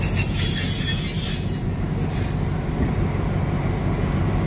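A short freight train of only five cars on a Thai railway passes close by, wheels rumbling steadily on the rails with high squeals early on, loud and continuous throughout.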